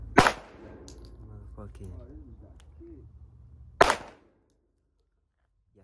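An AR rifle firing .223 rounds at an outdoor gun range: two sharp, loud blasts roughly three and a half seconds apart, the first at the very start, with someone talking in between.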